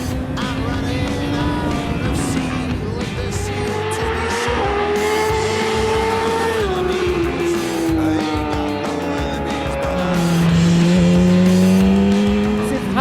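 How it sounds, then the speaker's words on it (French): A Yamaha R6 sport motorcycle ridden hard on a rally training road, its high-revving engine whining up and down through the gears, rising and falling in pitch as the rider accelerates and brakes, loud and close throughout. "me voilà au guidon de la R6 de Julien, sur une route que je connais pas pour l'instant"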